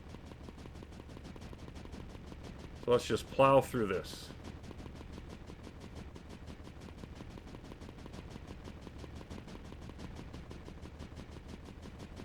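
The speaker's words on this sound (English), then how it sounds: "we've got like a machine gun cannon thing here" Rapid machine gun cannon fire in the video game Creeper World 4, a short loud burst of quick shots lasting about a second over a steady game background hum, with someone talking.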